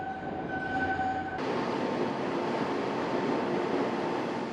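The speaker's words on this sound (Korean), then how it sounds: "덜컥거리는 협궤 열차를 타고 지상의 터널을 지날 때 그 풍경과 비슷하다." A train rumbles steadily through an undersea tunnel, a tonal whine fading as the roar swells into dense, continuous rolling noise.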